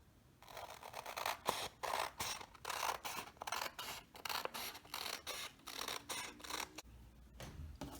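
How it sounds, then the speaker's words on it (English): Scissors snipping through pink construction paper for quilling strips, a close run of repeated crisp cuts in an uneven rhythm that pauses near the end. "And now I'm going to cut out these strips."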